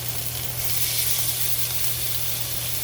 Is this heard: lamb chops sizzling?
yes